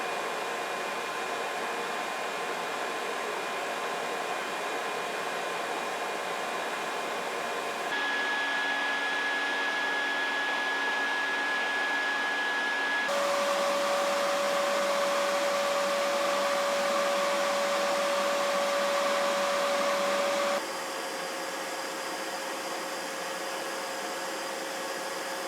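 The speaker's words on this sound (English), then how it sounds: "if it could maintain a good suction all the way down here, it's going to be a good vacuum" A shop vacuum roars steadily as it sucks through a long run of dust collection ducting, a loud continuous airy whine whose pitch shifts in several distinct steps as the suction load changes.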